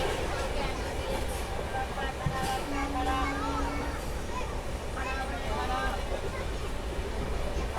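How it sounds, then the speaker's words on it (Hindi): The New Delhi–Chandigarh Shatabdi Express pulls in at a station platform, a continuous rail rumble with squealing wheel tones and a brief horn-like note under background crowd chatter. "तो इस सामने से अब आएगी ट्रेन नंबर 12045 नई दिल्ली चंडीगढ़ शताब्दी एक्सप्रेस"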